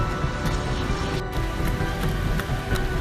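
Dense, steady rain pours outside on a cold 44-degree day, a continuous loud hiss with scattered droplet taps, alone with no talk.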